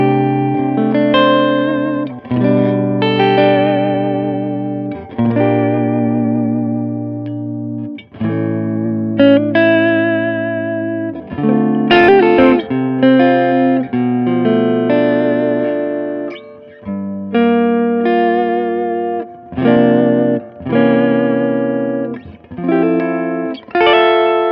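Electric guitar played through a Supro amplifier with the mids turned up and reverb added, ringing chords and short phrases with sustained, slightly driven tone and roomy reverb tails, close and loud with brief pauses between strums.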